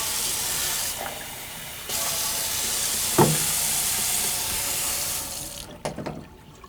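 Very cold tap water runs steadily into a measuring cup in a kitchen. A constant hiss is broken by a few clinks and knocks, and the flow cuts off near the end.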